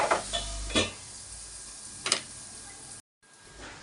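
Paneer masala curry frying in a pan gives a steady, close sizzling hiss, broken by a few sharp clicks and taps and a short dropout near the end.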